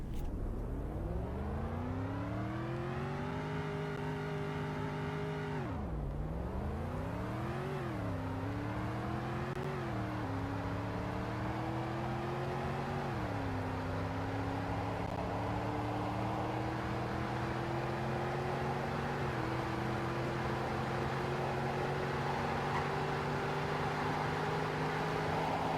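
A car in the Roblox game Greenville accelerates through a speed test, its synthetic engine tone climbing steadily through repeated gear shifts, with dips and rises before settling into a sustained high whine, loud and continuous without talk.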